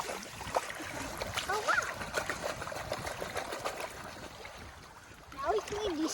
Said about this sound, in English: Now let's wash these two minions.